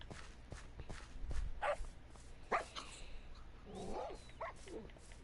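Angry wolf-dogs bark in a Minecraft Bedrock game on PS4, several sharp barks scattered across the stretch with a few louder yelps near the middle and end, over low game ambience.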